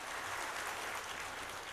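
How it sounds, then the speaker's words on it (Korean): A church congregation at a Sunday worship service gives a brief burst of warm applause, a dense, even wash of clapping with no voices standing out. "우리 뜨거운 박수로 격려해 주시면 감사했습니다"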